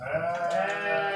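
A single sheep bleats on a livestock farm that keeps goats and sheep, one clear wavering call heard close and alone.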